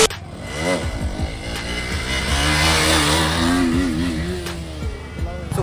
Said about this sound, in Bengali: তো গাইস রাজু এখন আমার বাইকে উইলি মারতে গিয়েছে